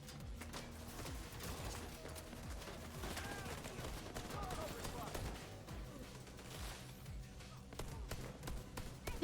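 Distant, faint gunfire in The Division 2 from Black Tusk and other hostiles shooting at the player, a steady muffled rattle of rapid shots running under quiet speech throughout.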